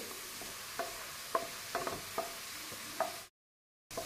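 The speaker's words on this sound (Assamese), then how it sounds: "এয়া পিঁয়াজখিনি ভাজি গ'ল।" Onions frying in a pan, nearly browned, give a steady close sizzle with occasional sharper crackles and stirring clicks, then a brief cut to silence before the sizzle resumes.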